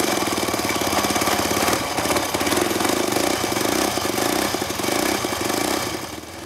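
A hillclimb motorcycle engine with a copper pipe exhaust runs loud and close, a harsh, rapid, rattling pulse that holds steady throughout with slight swells in intensity.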